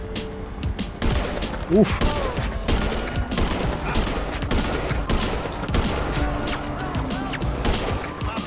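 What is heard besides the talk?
sniper and marksman rifle gunfire in a video game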